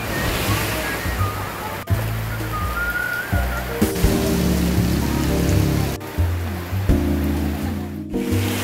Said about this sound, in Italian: E qua la pioggia aumenta